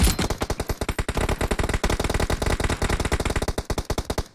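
Automatic gunfire from BGMI (PUBG) rattles out in fast, loud, evenly spaced bursts, close and continuous across the whole stretch with only brief gaps between volleys.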